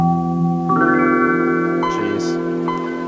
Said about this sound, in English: that is the sound of just about every computer in the 90s starting up